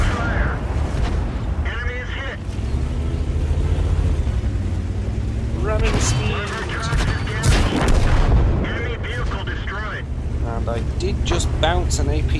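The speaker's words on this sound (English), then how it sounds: "An APCR shot there." A tank cannon firing an APCR round in a video game, a loud booming blast among rumbling explosions and engine drone, with someone talking throughout.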